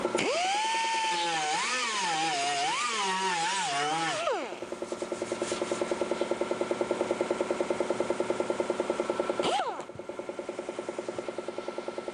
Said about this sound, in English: Now I'll grind that.